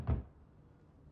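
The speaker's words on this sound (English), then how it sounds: "Ryan Gosling knocks on her door to coax her" A single dull knock on a door in the game The Wreck, one short thud near the start followed by quiet room tone.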